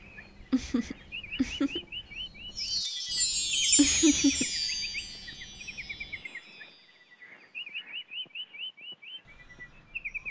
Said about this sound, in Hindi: तू भी पिंजरे में बंद होके छोले खा रहा है।